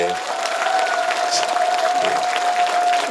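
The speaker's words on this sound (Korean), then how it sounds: "이분들 우리 큰 박수 한번 쳐드립시다." Audience applause at the Biseulsan azalea cultural festival opening greetings, a steady dense clapping from a crowd filling the whole moment, with a faint tone underneath.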